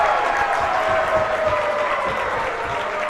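A crowd roars steadily at a tied girls' high school basketball game in a gym, the loud cheering sustained for the whole stretch without letting up.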